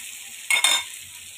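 A single quick stir of salted onions frying in a pan: a short scraping burst of spatula against metal rises over a faint background sizzle, then fades.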